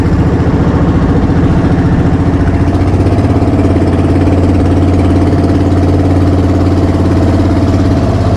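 A fisherman's boat engine runs steadily and loud, a close, constant low throb with a rhythmic mechanical knock and no voices over it.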